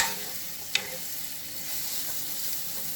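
Onions, garlic and peppers sizzle steadily in a pan, a continuous close hiss with one sharp tick of a utensil early on, no voices.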